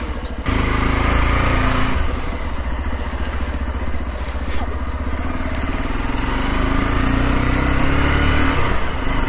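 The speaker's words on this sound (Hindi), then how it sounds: "बाइक से जाने वाले हैं हम" A motorcycle engine runs loud and close as the ride sets off, holding a steady rumbling drone with slight rises in revs and no voices.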